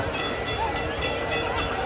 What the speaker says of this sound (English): A BNSF train even came by as all this was going down.